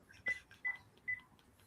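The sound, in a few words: dialing a telephone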